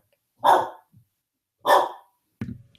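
A dog barks twice, loud and close, with a short gap between the sharp woofs and a clipped third sound at the end, all heard alone in a quiet room.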